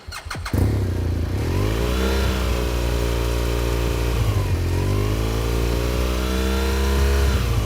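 A motorcycle engine runs loud and close with a steady low throb that rises and falls slightly as the rider brakes, after a brief rattling start.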